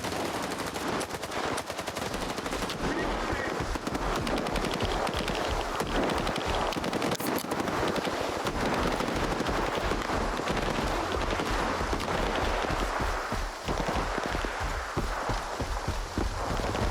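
Sustained, dense gunfire from the S.T.A.L.K.E.R. 2: Heart of Chornobyl video game, with rapid automatic bursts and scattered shots running loud and continuous throughout a chaotic firefight.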